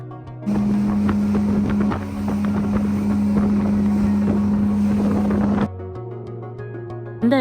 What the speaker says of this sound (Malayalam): അങ്ങനെ ബോട്ട് സ്റ്റാർട്ട് ആയി